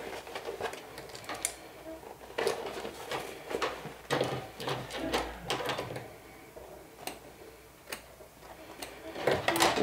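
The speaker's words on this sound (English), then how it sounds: "So now we're going to stitch all around." A sewing machine stitching around the edge of a glow-in-the-dark backpack/crossbody bag whirs in short rhythmic bursts of rapid needle ticks, separated by brief pauses, close and moderately loud.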